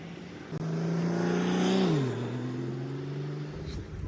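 A car drives along a road, its engine a steady close hum that swells and then drops in pitch as the vehicle shifts or slows, with road noise throughout and no talking.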